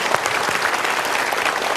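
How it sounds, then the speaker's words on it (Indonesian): Loud, dense audience applause at an Indonesian talk-show style event, many people clapping together in a close, steady burst that fills the short moment. "kita berikan tepuk tangan dulu."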